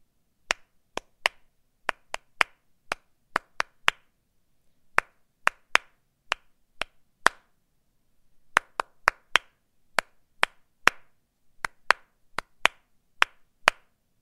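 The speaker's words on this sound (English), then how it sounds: "I'm just going to clap out the sound, the rhythm of the words." One person claps out the rhythm of the first lines of a Tupac poem, with sharp, isolated hand claps in uneven phrased groups and short pauses between lines, close and clear against silence.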